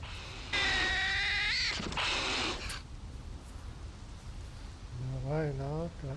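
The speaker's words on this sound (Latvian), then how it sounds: "Jā, smirdīgai kaķi atnāca" Cats meow in the DayZ video game, a few drawn-out wavering cries near the start and another short pair near the end, heard over a steady background of rain-like hiss.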